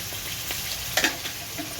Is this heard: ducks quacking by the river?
no